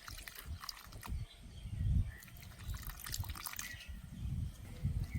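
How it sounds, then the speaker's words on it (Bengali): Water is added little by little to a thick paneer pakora batter: soft trickling and wet mixing sounds, quiet and close, with small splashes and drips spread throughout. "এবার অল্প অল্প জল দিয়ে ভালো করে থকথকে একটা ব্যাটার তৈরি করব।"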